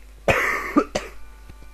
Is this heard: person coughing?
yes